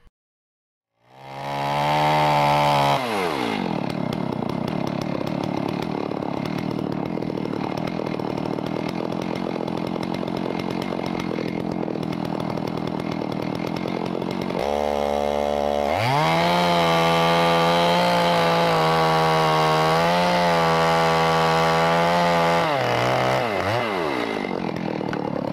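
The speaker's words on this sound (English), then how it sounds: "So gonna let the chainsaw do all the talking on this one" A chainsaw starts and runs loudly for a long stretch while felling a tree, its engine pitch shifting as it revs and bogs down cutting through wood.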